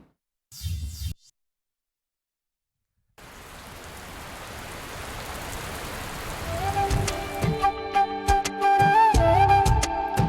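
Steady rain falling, a soft hiss that builds and grows louder over several seconds, with tonal sounds rising in the background toward the end.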